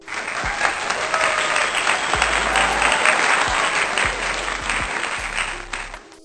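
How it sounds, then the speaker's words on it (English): Loud, dense crowd applause with cheering runs steadily as a celebratory sound effect, filling the whole stretch before cutting off abruptly at the end. "So now I'm a licensed nail tech, and the crowd goes wild."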